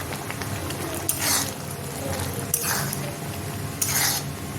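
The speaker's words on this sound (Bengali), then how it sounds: "তো এখানে ভেজে রাখা ডিম দিয়ে দিচ্ছি।" Fried eggs tipped into egg tarka and stirred in a pan, with three bright scraping clatters of a ladle against metal over a low sizzle and kitchen background.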